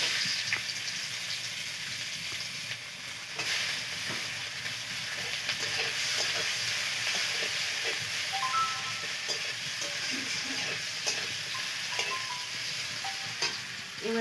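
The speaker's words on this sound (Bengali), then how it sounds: "এবার দেবো কোচানো পেঁয়াজ," Chopped onions fry in hot oil in a wok during village fish cooking in the Sundarbans, a steady close sizzling hiss running without a break, with faint higher chirps scattered through it.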